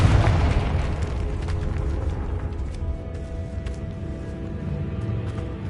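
Booming fiery blasts from the Confringo spell in Hogwarts Legacy, a dense rumbling wash of low explosions throughout, with a sustained roar and no voices.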